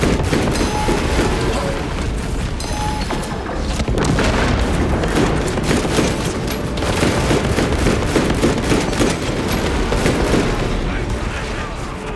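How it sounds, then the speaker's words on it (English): Melter bomb detonation amid heavy combat in Space Marine 2, a loud continuous barrage of booms and rapid gunfire-like bursts, with some voices underneath. "Melter bomb deployed."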